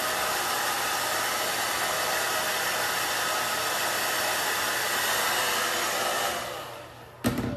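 A hair dryer blows on a synthetic wig, a loud, steady broadband whoosh that runs for several seconds before fading down and stopping, followed by a brief clunk.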